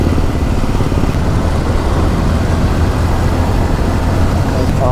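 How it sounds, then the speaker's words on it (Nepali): A motorcycle rides fast, its engine roaring loud and steady with heavy wind rush throughout, close and continuous. "यति टच गरे पनि उड्छ क्या मेरो बाइक"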